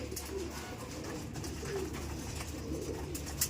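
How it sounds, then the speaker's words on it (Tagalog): Two young pigeons coo softly and steadily while being fed, with low, continuous bird calls and light outdoor background noise and no talking. "Dalawang young bird yan."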